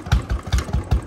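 A motorcycle engine idles with a rhythmic low thump, about five evenly spaced pulses in a second, close and fairly loud with no voices over it.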